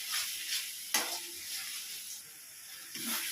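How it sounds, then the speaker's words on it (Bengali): Spiced masala with coriander powder fries in oil for a mutton curry, a soft continuous sizzle broken by a few sharp stirring scrapes, fairly quiet with no talking. "এভাবে আরও 5 মিনিট কষিয়ে নেব মশলাটাকে।"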